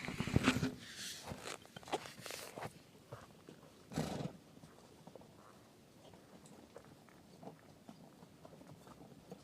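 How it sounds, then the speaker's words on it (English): Donkeys passing on a mountain trail near Choquequirao: hooves clop and shuffle over rough ground, busiest and loudest early, then fading into faint scattered steps and outdoor background. "there's a lot of donkeys coming"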